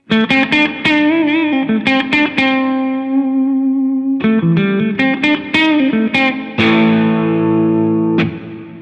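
An electric guitar on both pickups played through a Joyo Zombie II amp at the edge of breakup, strummed chords and ringing notes with a gritty edge, loud and up close.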